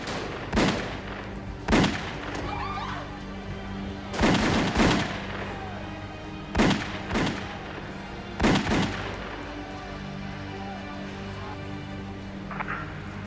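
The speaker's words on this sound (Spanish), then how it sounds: "varios hombres se les acercaron y comenzaron a disparar." Gunfire from several men shooting in a mob hit, staged as a sound effect: loud, sharp gunshots fired singly and in short pairs at irregular intervals over a rumbling background.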